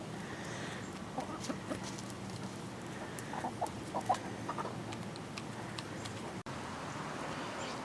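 Soft, scattered hen clucks over a quiet outdoor background, with a few faint clicks and rustles; no one speaks.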